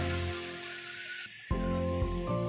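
Tomato paste is added to onions frying in a pan for palak paneer, and a loud hiss of sizzling oil starts abruptly and holds steady without talk.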